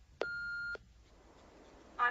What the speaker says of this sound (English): If you wish to leave a message, please do so after the tone.